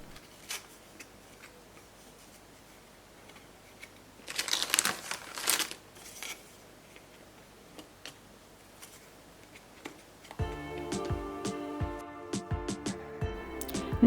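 A knife cuts crunchy wafers to fit the edges of a dish, with two short bursts of crisp crunching followed later by a steady run of rapid, close ticking clicks, and no one speaking.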